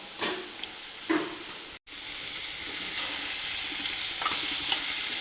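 Onions sautéing with salt in a pan for an egg dish, giving a steady close sizzle with soft stirring scrapes and a brief gap partway through.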